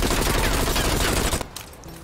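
Sustained automatic assault rifle fire from a base weapon with no attachments in Call of Duty: Black Ops Cold War, a loud continuous burst lasting about a second and a half before cutting off to quieter game ambience.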